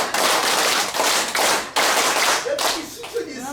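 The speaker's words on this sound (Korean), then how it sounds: "박수 10번 시작!" A crowd at a Korean commemorative event for Asia-Pacific war victims claps hands in rhythmic unison, a steady run of about ten loud, sharp claps filling the hall without talk.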